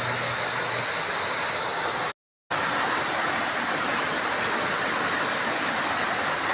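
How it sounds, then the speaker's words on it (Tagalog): Heavy tropical rain pours down as a dense, constant roar of water on surfaces, with one brief cutout in the middle. "ang lakas ng ulan dito sa amin."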